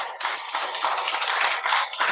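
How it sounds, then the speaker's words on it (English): An audience gives steady, dense applause after a state senator's keynote speech at a spring gathering. The clapping is close and continuous and carries on without a pause. "Applause."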